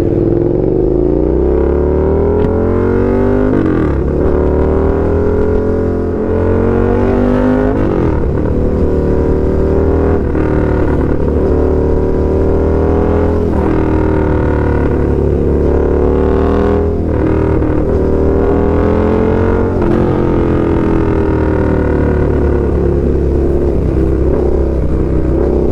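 A Suzuki SV650 motorcycle with an Austin Racing exhaust and the catalytic converter deleted, ridden with a loud, throaty engine drone that rises and falls through repeated gear changes and throttle sweeps, close and continuous.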